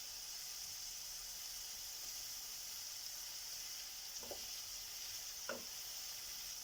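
Peppers sizzle in a frying pan for a diet breakfast, a steady close hiss of hot oil with two short stirring scrapes near the end, and no talking.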